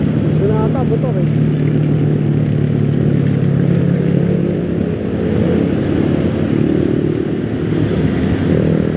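A Honda Click 125 scooter's engine drones steadily while riding in traffic, a close, continuous low hum with wind rush, and a voice briefly speaks over it.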